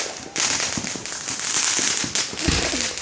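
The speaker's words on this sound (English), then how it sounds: "There's like a firecracker." Fourth of July fireworks and firecrackers going off outdoors, a loud continuous crackling barrage with sharp pops and bangs throughout.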